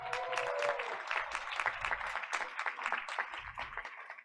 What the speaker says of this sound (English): Let's give Caitlin another round of applause